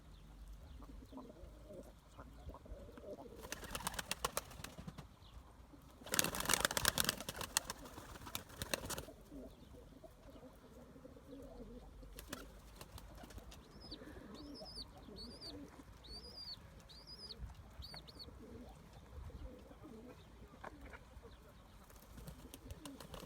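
Pigeons coo softly while pecking at salt and minerals, a series of repeated low coos in the middle of the stretch, with a louder burst of nearby rustling or wing flaps earlier and faint outdoor background.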